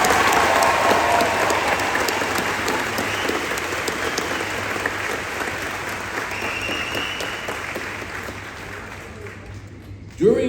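Sustained audience applause fills a graduation ceremony hall, loud and steady clapping from a large crowd that tapers slightly toward the end.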